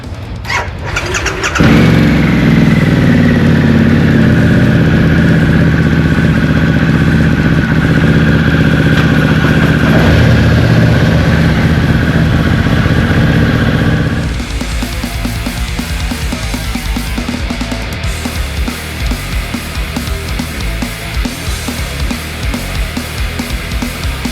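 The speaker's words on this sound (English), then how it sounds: "we're gonna start the bikes and shoot out here and get going" Motorcycle engines fire up and settle into a loud, steady idle, then the sound shifts to rougher, pulsing engine noise as the bikes pull away and ride off.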